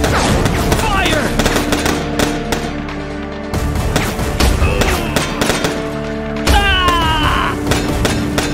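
Rapid gunfire bursts and heavy thuds from a shootout in the video game Foreclosed, loud and close, with short pauses between volleys and game music or effects running underneath.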